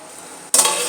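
Mutton biryani masala gets stirred in a pot, starting as a faint simmer, then a sudden loud scraping, sizzling stir for the last half second.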